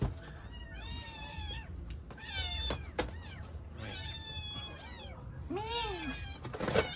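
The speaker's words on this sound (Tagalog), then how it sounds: "Kinulong ko muna kasi mga pusa kasi nga mangi-istorbo sila kapag magbi-video ako dito." Several domestic cats meow loudly and repeatedly, with rising and falling cries spread across the stretch, some overlapping, heard close by against a low background rumble with a few knocks.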